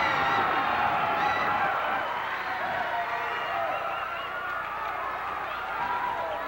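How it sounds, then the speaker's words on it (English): A wrestling arena crowd cheers and roars steadily after a Dr. Death Steve Williams victory, a dense wash of voices without clear claps. "And listen to this crowd."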